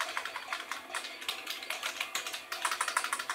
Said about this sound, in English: Okay, so this is all coming from a Dell keyboard.